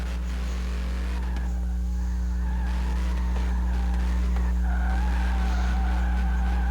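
A drift car at a drift competition qualifying event skids through an uphill section, its tires squealing loudly over a steady engine drone, the screech rising and holding for several seconds close by.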